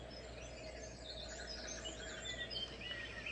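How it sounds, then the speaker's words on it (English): Birds chirping in the background while indoors, faint scattered tweets and calls over a quiet, steady room hum. "we have some birds chirping in the background"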